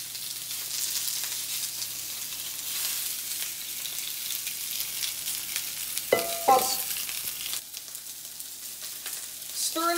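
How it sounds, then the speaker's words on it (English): Sausage pieces frying in a cast iron skillet give a soft, continuous sizzle, with a brief clatter of stirring partway through. "place the sausage in the cast iron skillet"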